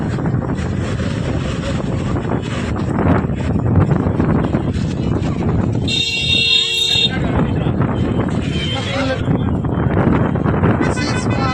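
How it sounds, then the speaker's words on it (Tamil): Strong coastal wind at Dhanushkodi roars continuously and buffets the microphone, a steady broadband rush with a brief tonal beep partway through. "நல்ல காத்துங்க. சரியான காத்தடிக்குது."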